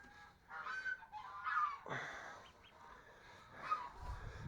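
A duck honks near its nest in a humid spot, giving several loud, close, nasal calls in short bursts with brief pauses between them.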